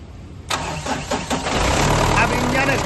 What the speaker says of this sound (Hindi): अब इंजन स्टार्ट हो गया